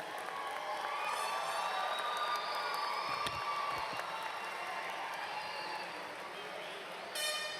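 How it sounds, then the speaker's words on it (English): Crowd applause and cheering for the graduates at a 2010 graduation ceremony, a sustained, fairly even wash that fades slightly toward the end, with a horn-like toot or whistle at the close. "Let's give all of our graduates a round of applause again"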